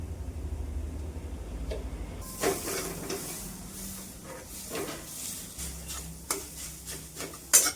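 Chana dal kachori filling with garam masala and sugar is sautéed over medium-low heat: a low hum gives way to a soft sizzle and repeated close scraping and tapping of a spatula, with a louder knock near the end.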